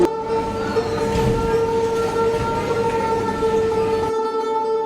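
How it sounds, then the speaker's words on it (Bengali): A Naihati local train rumbles into a station while a long, sustained horn-like tone rings over it, then the sound cuts off near the end. "ফাইনালি আমাদের ট্রেনটা চলে এসেছে"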